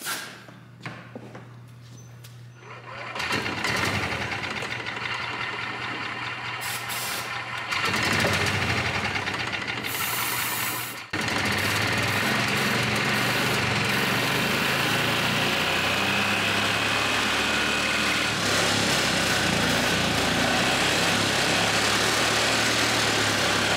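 Modified junkyard golf cart engine runs while raised on a lift, starting from a quieter stretch, then roaring to a loud, steady, high buzzing drone with rattling vibration and a brief rev surge midway, close and continuous.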